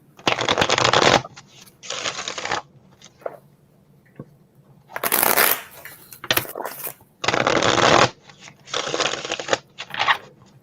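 Tarot cards are shuffled repeatedly in crisp bursts of riffling and flicking, close up, separated by short quiet pauses.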